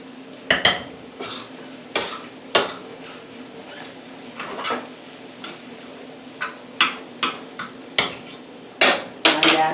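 A fork knocks and scrapes against a dish while mixing a melting pizza burger topping, producing sharp, irregular clinks spaced through the stretch.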